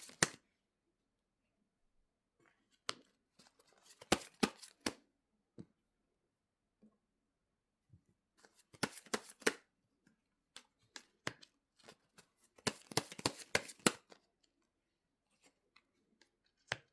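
Tarot cards for a love reading are shuffled and flipped, with scattered crisp snaps and brushing flutters coming in short clusters between stretches of near silence.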